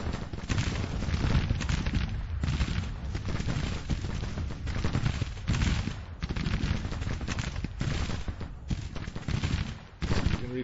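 Continuous, dense massed musket and artillery fire from a Civil War battle in the strategy game Grand Tactician rolls on steadily, with a distant crackling fusillade throughout.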